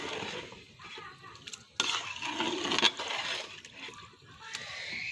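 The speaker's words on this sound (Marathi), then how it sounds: "आता पाणी घालू आपण." Water is poured into a large pot of rice for pulao, a close splashing, sloshing gush that swells and eases over several seconds.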